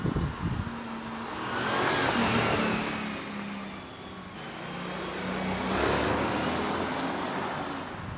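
Mercedes-Benz W210 E430 with a 4.3 litre twin-cam, three-valve-per-cylinder V8 runs steadily, the engine note swelling and easing twice like gentle revving, heard clearly and alone.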